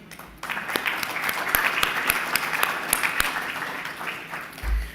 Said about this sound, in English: let's give one more round, please, of a heartfelt applause to all these Women of Mining recipients